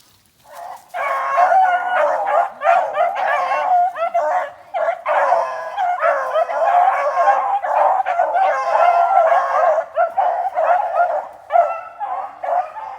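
Several young hunting dogs bay and yelp almost continuously while chasing a rabbit outdoors, their overlapping cries loud and close with only brief pauses.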